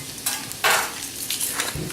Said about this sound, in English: garlic that I've given a rough chop to. I'm going to toss that in there. Give it a stir.